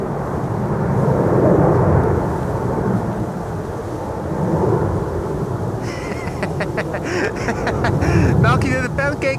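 A Cathay Pacific Airbus A350-1000 departing Amsterdam Schiphol on flight 270 to Hong Kong, its jet engines a loud, rumbling roar that swells and fades, with wind buffeting and someone talking over it.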